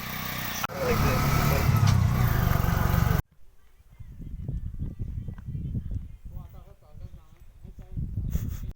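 An auto rickshaw passes by on an early-morning village road, its engine rumbling loudly nearby for a few seconds before fading out, with people talking faintly.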